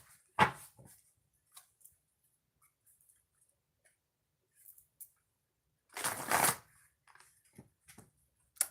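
A deck of tarot-style cards is shuffled twice, two short riffling bursts separated by quiet, with faint taps and handling sounds between them.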